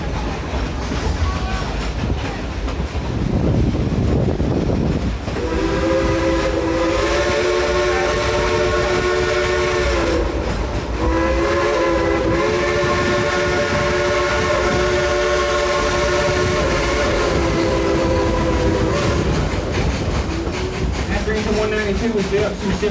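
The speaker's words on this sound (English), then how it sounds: "she's a coal-fired, steam-driven Type 282 locomotive" A coal-fired, steam-driven Type 282 locomotive on the Dollywood train rumbles loudly and sounds its whistle in two long blasts and a shorter closing toot over continuous running noise and chuffing.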